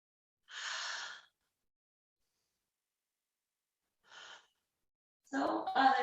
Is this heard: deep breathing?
yes